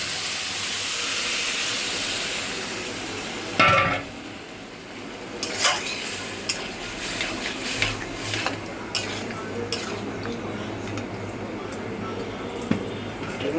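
Spice tempering poured into cooking bottle gourd with mung dal: a sudden loud burst of sizzle, then a long hissing steam with scattered clinks of a spoon against the pot, close by.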